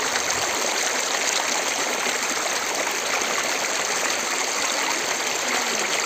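The Dhansiri River on the Assam–Nagaland border gives a continuous, even rush of flowing water, close and fairly loud, with no voices over it.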